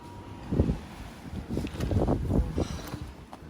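Blizzard wind in Saskatoon buffeting the microphone in low gusty bursts, rising and falling over a faint steady rush.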